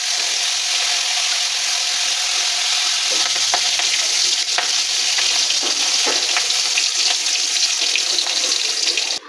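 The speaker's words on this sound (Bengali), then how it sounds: "এখন চিংড়ি মাছটা ভাজবো।" Shrimp frying in hot oil in a pan for shrimp fried rice, giving a steady, loud broadband sizzle with occasional spatters and pops throughout, no voices.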